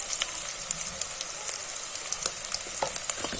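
Cashew roast masala being sautéed in a pan, Kerala style, with a dense, crackling fry sizzle and scattered sharp pops and stir scrapes, close and steady without any voice.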